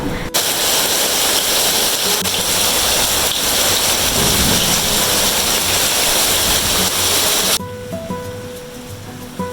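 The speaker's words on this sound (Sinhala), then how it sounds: "හයියෙන්ම වහිනවා අපේ ගෙදරට" Heavy rain pours down in a dense, steady roar, then abruptly drops off near the end, leaving quieter background sounds.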